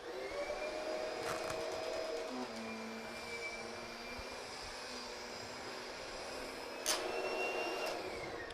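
A Kirby vacuum cleaner runs continuously during an in-home sales demonstration, giving a steady whining motor drone with shifting tonal pitches and a couple of brief louder bursts, fairly faint and with no speech.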